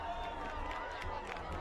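A football crowd cheers after a trick play on an onside kick at a high school game between LHS and North Middlesex, a steady roar under a commentator's voice.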